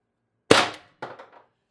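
An Umarex TR50 CO2 air gun fires a 12.7mm steel ball as a single sharp, loud crack, followed a half second later by a fainter clattering impact, with nothing else heard.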